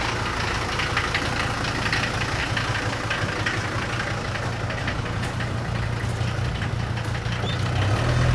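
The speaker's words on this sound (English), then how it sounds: "The old 617 Mercedes diesel engine was a great engine." A Mercedes 617 diesel engine idles with a steady low rumble and a rapid, knocking clatter, continuous and close throughout.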